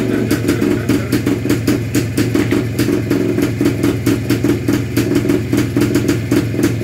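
A Jawa Libeňák motorcycle engine idles close by after carburetor tuning, with a loud, even, rapid pulsing beat that runs steadily throughout.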